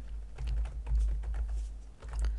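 Fast, light clicks of someone typing on a computer keyboard, keystrokes tapping in quick irregular runs over a low steady hum.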